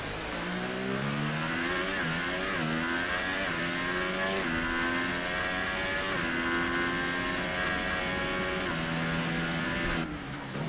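A race car engine in an F1 video game on a German circuit, screaming loud and close through a lap, with rising and falling revs at each gear change and a brief dip near the end.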